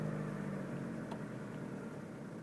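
A truck engine pulls away from a standstill under gentle throttle, a steady low drone holding near and even for a couple of seconds with no voices.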